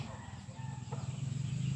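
A chicken clucks quietly, with soft, short calls over a low background murmur, lasting under two seconds.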